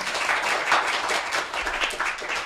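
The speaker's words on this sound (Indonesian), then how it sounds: "Tepuk tangan." Applause from a school audience in Surakarta welcoming a vice principal onto the stage, a steady wash of clapping that sounds somewhat thin and moderately loud throughout.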